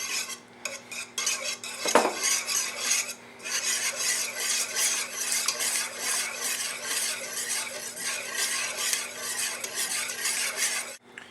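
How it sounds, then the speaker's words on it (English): A whisk scrapes and rasps steadily against a bowl as eggs are beaten with cinnamon, with a sharp clink near the start and a continuous brisk stirring rhythm throughout. "Whisk it in nice and slow."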